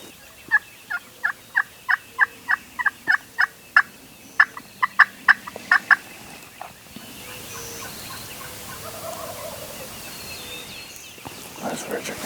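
A run of rapid wild turkey gobbles rings out in quick succession in the Texas Hill Country, some overlapping from several birds, then fades into quieter rustling background noise.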